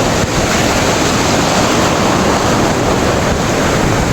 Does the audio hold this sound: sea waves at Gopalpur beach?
yes